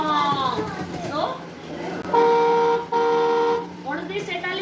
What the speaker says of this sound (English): beloved car is honking. That is a honk.